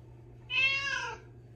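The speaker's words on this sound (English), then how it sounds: "Astro, can you sound like a cat?" A MetaCat robotic toy cat gives a single clear electronic meow, close and fairly loud, lasting under a second over a faint steady hum.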